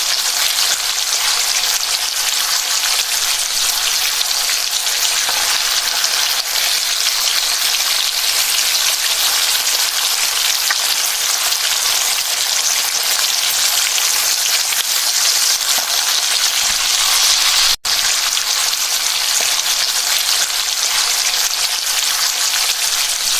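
Seafood frying in a pan makes a loud, continuous sizzle and crackle that runs unbroken throughout, with one brief sharp tap near the end and no voices.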